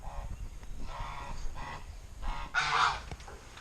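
Geese honk faintly at a distance in scattered calls from a farm goose yard under a hoop house, with one louder, nearer honk near the end over outdoor background noise.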